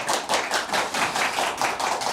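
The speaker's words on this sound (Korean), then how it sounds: "뜨거운 박수로 시작하겠습니다" Audience applause for the entrance of Michelin three-star chef Kang Min-goo of Mingles at a Korean talk event on K-food: a dense, rhythmic burst of many hands clapping close by, pulsing steadily for a couple of seconds with no talk over it.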